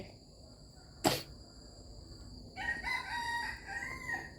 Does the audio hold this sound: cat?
no